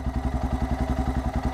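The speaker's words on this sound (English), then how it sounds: "man, that's a good solid running engine right now." A Suzuki DR650 motorcycle engine runs steadily after carburetor modifications, a close, loud single-cylinder thump pulsing in an even rapid rhythm throughout, with no voices.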